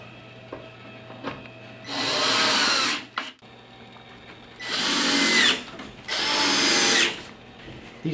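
A cordless power drill drives screws into a Rockwood corner sink base kitchen cabinet in three close whirring bursts of about a second each, separated by quiet pauses and a sharp knock.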